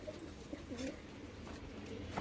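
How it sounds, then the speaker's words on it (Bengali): Madras pigeons give soft cooing calls close by, faint and brief. "এ তো ম্যাড্রাস পায়রা।"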